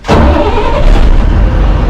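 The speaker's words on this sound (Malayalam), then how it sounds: "വണ്ടി സ്റ്റാർട്ട് ചെയ്യണം" A vehicle engine on the Chittur–Panangad route catches and starts up close by, bursting in loud and settling into a rough, steady running roar.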